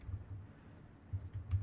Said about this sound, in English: Typing around my mic is hard